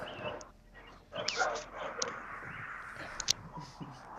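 Several dogs bark and yip at a protest, in short irregular bursts at middling distance. Some whimpering is mixed in with the barks.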